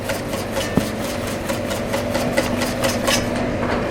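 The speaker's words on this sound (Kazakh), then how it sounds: "Трактор" A tractor engine idles nearby with a steady low chugging hum, a fast, even mechanical pulse and a few small knocks, heard alone without talk.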